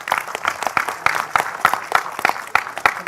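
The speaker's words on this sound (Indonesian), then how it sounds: "Tepuk tangan yang meriah untuk beliau." A small audience at a gathering with Cak Nun claps in separate, uneven bursts, individual hand strikes standing out rather than merging into a continuous roar, fairly close.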